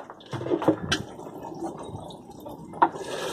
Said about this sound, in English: So we're giving them a bit of a water, and water in.